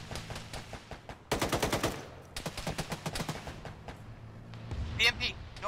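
Rapid bursts of gunfire strike an armored vehicle in a military shooter game, two loud clattering volleys of automatic fire with a metallic ring near the end, while voices talk over the action.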